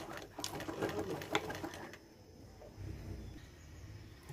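A sewing machine stitching blouse strips together, a short burst of quick rattling stitches followed by quieter handling noise, close and fairly soft.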